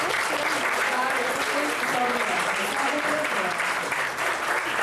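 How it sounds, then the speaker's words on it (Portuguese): Steady, dense applause from an audience at an anniversary event presenting projects and a team, continuing at full strength with faint voices mixed in. "para a gente dar o aplauso final"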